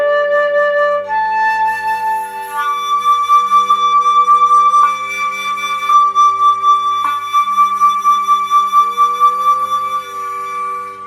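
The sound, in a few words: flute alternating overblown low D fingering and high D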